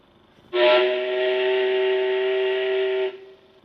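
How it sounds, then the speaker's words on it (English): A single station steam whistle blows in one sustained, steady blast for a few seconds, then stops abruptly. "they heard the sound of the station whistle"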